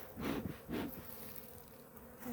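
Honey bees buzz faintly at an opened hive being smoked, with two brief, closer swells of buzzing early on over a soft humming background.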